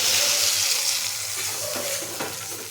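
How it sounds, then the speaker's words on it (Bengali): A little water, about half a cup, goes into a pan of raw tamarind that has been frying with turmeric and salt, giving a continuous hissing sizzle with some stirring and bubbling noise. "এখন এর মধ্যে দিচ্ছি অল্প জল"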